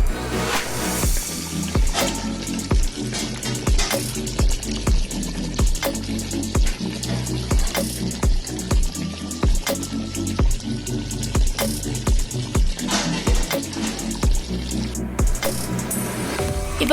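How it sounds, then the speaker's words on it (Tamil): Water is poured from a glass into mutton head curry cooking in a pressure cooker, a continuous splashing liquid sound with irregular clinks and stirring knocks throughout, close and moderately loud. "கறி வேகிறதுக்கு 1/2 கிளாஸ் தண்ணி ஊத்திக்கலாம்."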